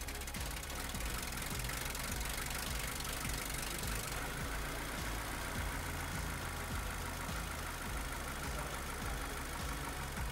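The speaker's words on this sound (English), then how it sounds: "engine idle will become rough and eventually stall" A Toyota car engine with a VVT-i variable valve timing test applied, idling unevenly: a steady mechanical rumble with irregular knocking pulses, continuous and fairly close.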